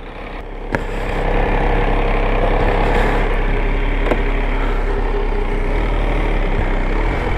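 An MV Agusta 800 Brutale RR motorcycle engine fires up with an unusual startup noise after a short click, then settles into a loud, steady, rumbling idle close by.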